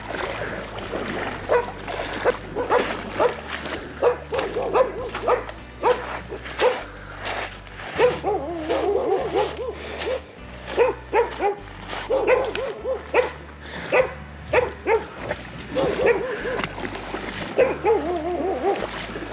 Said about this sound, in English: I got some dogs